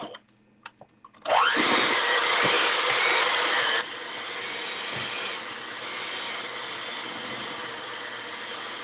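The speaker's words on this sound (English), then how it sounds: "we got the electric mixer here" An electric hand mixer whirring through cheesecake batter in a bowl, a loud steady motor whine that starts suddenly and then drops to a slightly lower, continuous hum.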